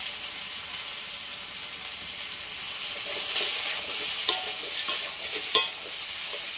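Pieces of green banana and potato frying in fish oil sizzle steadily, swelling louder partway through, with stirring scrapes and two sharp clacks of a utensil against the pan; no voices.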